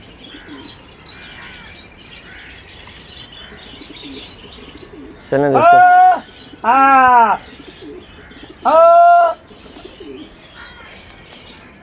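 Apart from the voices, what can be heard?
pigeons cooing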